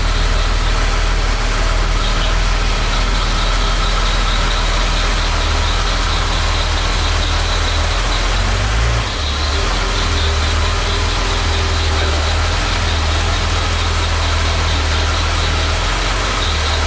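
A repaired car engine idles as it warms up, a loud, steady, low rumble with constant vibration that runs unbroken and close for the whole stretch.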